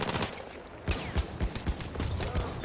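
Suppressed M1911 pistol fire in Battlefield 1 sounds as a quick series of muted thumping shots amid busy battlefield noise and distant gunfire.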